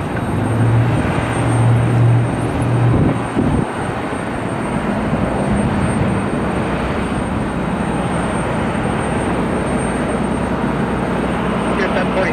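A steady, loud roar of an airliner's engines taking off at Cleveland Hopkins Airport fills the air, a broad rumbling wash with brief voices heard over it early on.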